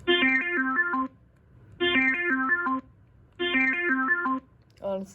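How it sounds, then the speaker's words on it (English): The Analog synth 1 ringtone on a Cisco IP phone plays three times, each a bright descending-and-rising synth arpeggio about a second long with short pauses between, and a fourth phrase begins at the end. "Analog synth 1."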